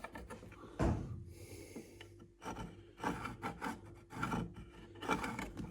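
A pencil scratches lines along a wooden board while marking a squirrel feeder piece for jigsaw cutting, giving close, quiet rasping strokes in short irregular bursts with no talking.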